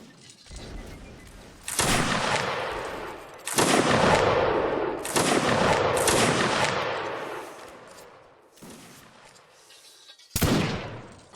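Loud bursts of video game gunfire come in several separate volleys, each starting sharply and then trailing off in echoing rattles, with short quiet gaps between them and no talking.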